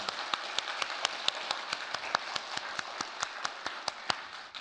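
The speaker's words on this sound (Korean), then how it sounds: "그럼 박수로 격려해 주시기 바랍니다." A church congregation at a baptism service applauds with steady, evenly paced clapping, moderately distant and without voices.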